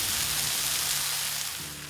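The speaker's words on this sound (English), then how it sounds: "take this bacon and chuck it on the same cast iron plate and get that nice and crispy" Bacon sizzles steadily on a hot cast iron plate, a dense crackling hiss with a faint low hum beneath it.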